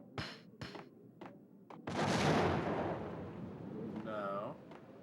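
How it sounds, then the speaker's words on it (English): A grenade goes off in the video game Max Payne, a broad loud boom with a rumbling roar that lingers for a few seconds after several short sharp gunshot cracks. "Maybe I have to use a nade."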